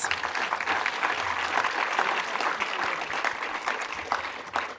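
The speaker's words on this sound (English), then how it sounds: "So a big round of applause to our teams." An audience at a debate on genomics gives the teams a big round of applause, a dense, continuous clapping that stays fairly even for several seconds with a few louder claps standing out.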